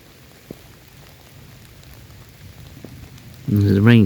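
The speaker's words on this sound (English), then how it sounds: "And as the rain comes down here" Rain falls at night on short grass outdoors, a faint steady patter with a few sharper drops. At the very end a person begins speaking loudly and close by.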